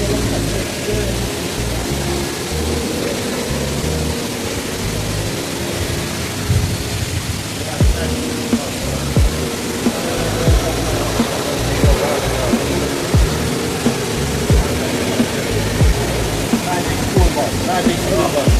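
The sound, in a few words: rushing water sounding like rain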